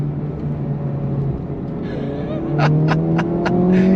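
A 2023 Honda FL5 Civic Type R accelerates on throttle, its engine drone climbing in pitch and growing louder toward the end, heard close from inside the car.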